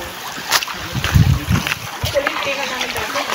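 Splashing footsteps while crossing a shallow stream in Antipolo, several close splashes in quick succession under people talking nearby.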